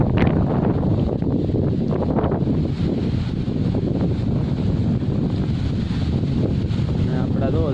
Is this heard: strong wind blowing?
yes